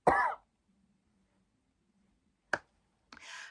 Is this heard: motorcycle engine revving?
no